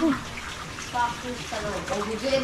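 Water running from a tap, a steady rushing splash under faint background voices and clatter, fairly loud and close throughout.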